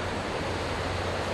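Wake waves thrown up by a passing cargo ship wash onto the shore in a continuous, broad rushing roar, steady and fairly close, with wind noise mixed in and no voices.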